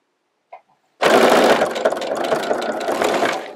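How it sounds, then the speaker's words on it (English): A sewing machine stitching quilt binding starts up after a brief click and runs as a steady, close, loud mechanical whir with rapid needle chatter for several seconds, with no talking. "I'm going to slowly stitch till I get a 1/4 inch away from the edge of the quilt"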